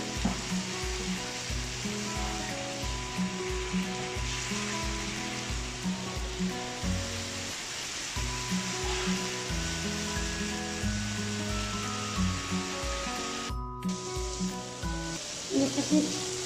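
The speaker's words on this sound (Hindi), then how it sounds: "अच्छे से इसको हम भून लेंगे।" Boneless chicken frying in a pan with soy sauce, a steady close sizzle with intermittent stirring scrapes, continuous throughout at moderate volume.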